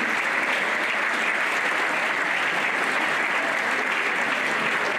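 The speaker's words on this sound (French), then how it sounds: "vous pouvez l'applaudir" A ski club crowd applauds the club president at an awards event in Auron and Isola 2000, producing a thick, even wall of clapping that holds steady throughout.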